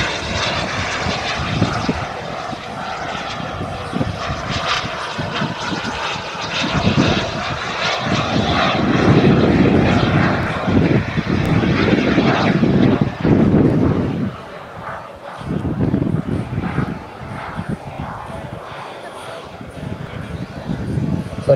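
A radio-controlled model F-104 Starfighter jet roars past loudly at an airshow, its engine whine rising and fading as it flies by and lands, with wind buffeting the microphone.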